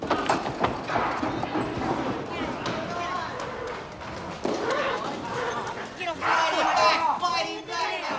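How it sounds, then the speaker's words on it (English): Hooves clopping on a hard surface amid a noisy scene, with shouting voices over the top throughout. "It's the big fella. Happy Harry's horse"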